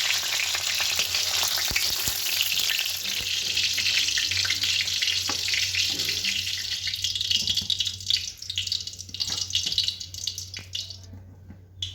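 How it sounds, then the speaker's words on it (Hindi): Pointed gourd (patol) fries in oil over a full flame, a loud continuous hissing sizzle close by that thins out toward the end, with no voices. "पटल तो फुल आंच रे बुन भाजाया"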